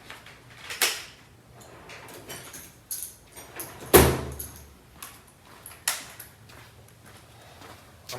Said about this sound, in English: see if the door opens and closes properly